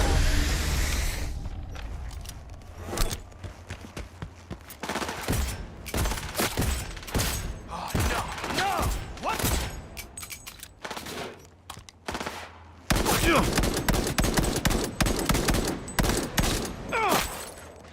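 Heavy gunfire in the shooter game Cyberpunk 2077, a long run of rapid automatic bursts and single shots, loud and close with brief lulls, running steadily for about eighteen seconds.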